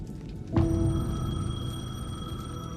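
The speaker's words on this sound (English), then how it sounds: "The payphone was ringing." A payphone rings in the rain in the video game Alan Wake 2, a sudden close metallic bell trill that sustains and decays, over a steady wash of rainfall.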